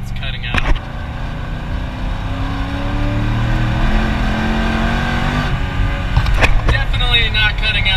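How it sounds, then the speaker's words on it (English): A Corvette C6 Z06 with a suspected power cut at 5000 RPM pulls hard in third gear on a highway, its engine note climbing steadily and loud over several seconds before a gear change, with someone speaking briefly. "getting up on the highway, I'll do hopefully a third gear real quick to see if it's cutting out"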